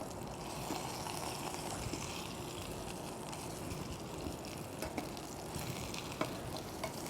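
Meatballs sear in a frying pan with a steady, fairly quiet sizzle and faint crackles throughout, a few soft utensil taps near the end; no one speaks.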